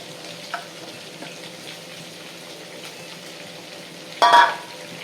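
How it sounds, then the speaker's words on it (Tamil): Onions fried in hot oil with cumin for traditional tomato rice make a soft, low sizzle, broken near the end by a brief louder burst as more goes into the pan, with no one speaking. "இப்போ இந்த சமயத்தில் நான் வெங்காயத்தை போடுறேன்"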